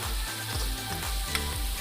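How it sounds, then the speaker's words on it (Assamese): Onions sizzle loudly in hot oil with turmeric, a constant close frying crackle with rhythmic scraping strokes as they are stirred in the pan. "পিঁয়াজখিনি ৰঙচুৱা পৰালৈকে ভাজি লৈছোঁ।"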